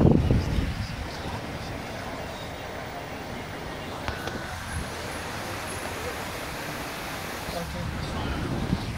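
Wind rushes through an open car window while driving in Los Angeles, a steady broadband roar with faint road noise and occasional soft buffets, fairly quiet overall.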